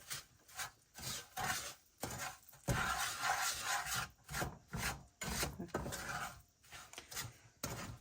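Spoon scraping and stirring apple pie filling in a pot, repeated rubbing strokes in an uneven rhythm, close and moderately quiet, with no talking over it.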